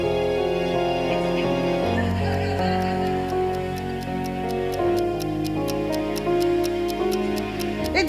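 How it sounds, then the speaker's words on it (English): A clock ticking steadily at an even pace, offered as a heart for a tin man in a Wizard of Oz scene, clear over full orchestral music that plays throughout. "It's ticking! I can hear it ticking!"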